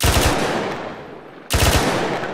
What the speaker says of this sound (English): That was gunfire.